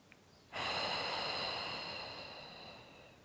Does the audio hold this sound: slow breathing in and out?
yes